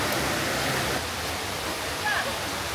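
Daranak Falls, a waterfall over a very rocky streambed, heard as a constant loud rushing roar of falling water that fills the whole clip.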